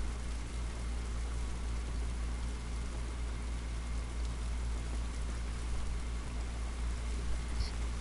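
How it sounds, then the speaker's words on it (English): Steady rain falls in The Last of Us, an even, continuous hiss with a low rumble underneath, holding at a constant level for the whole stretch with no voices. "It's raining."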